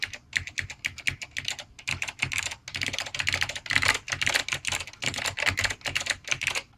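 Fast typing on a vintage Focus mechanical keyboard, a dense stream of crisp, loud key clacks with brief pauses between runs, close and alone without any talking.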